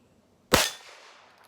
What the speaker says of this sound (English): this is the first time I fired this gun